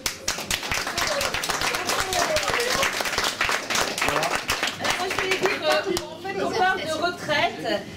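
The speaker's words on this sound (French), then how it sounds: "Et on peut leur applaudir à tous ces personnes-là." Applause from the audience at a 60th birthday party, a steady clatter of many hands clapping close by for several seconds, with voices mixed in and fading toward the end.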